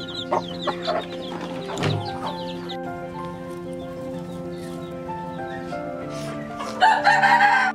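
Chickens on a rooftop farm: a rooster crows and hens cluck in an ongoing mix, close by, with a burst of louder cackling near the end.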